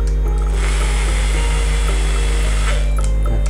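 A Bosch three-function 220V electric drill in plain drilling mode runs steadily and loudly for a few seconds, a continuous high motor whine with a deep hum beneath, no voices present.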